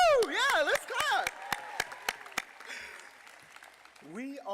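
Scattered clapping from a crowd at a 2022 college commencement ceremony, with sharp individual claps, while voices cheer and a person speaks over it.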